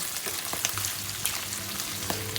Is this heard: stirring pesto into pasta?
yes